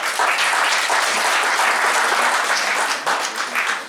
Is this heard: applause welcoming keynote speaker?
yes